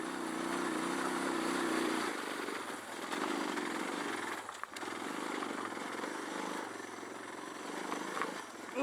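Stock Suzuki DR650 motorcycle climbing a technical dirt trail at Metcalf Motorcycle Park, a steady engine drone with throttle swells and a brief dip midway, close and loud throughout with no talking.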